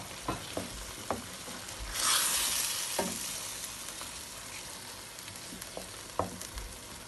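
Potatoes being stirred into cooked tomato paste in a pot for biryani, with soft sizzling throughout and a few sharp spoon knocks and scrapes, one brief louder hiss midway; no talking.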